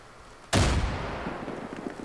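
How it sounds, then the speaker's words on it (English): A frag grenade goes off in Far Cry 5 with one sudden loud blast after a quiet moment, then a long rumbling decay that trails away. "let's try throwing a, a frag"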